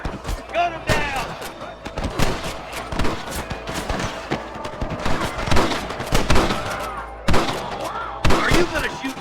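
Gunfire in the Western game Red Dead Redemption as a guard is rushed, with sharp irregular shots and thuds scattered throughout while characters shout and talk over the action.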